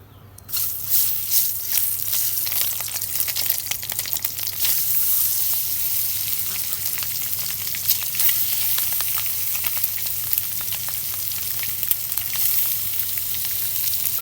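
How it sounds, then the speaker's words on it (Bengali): Spiced egg seasoned with turmeric, salt and chili sizzles steadily in hot oil, a loud continuous frying crackle that runs close and unbroken throughout. "এখন আমি তেলের মধ্যে দিয়ে ভাজবো"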